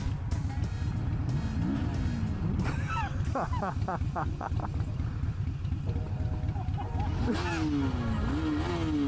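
A motorcycle engine revs on a city street, with rising and falling pitch sweeps cutting through constant road and traffic noise, while voices talk faintly in the background.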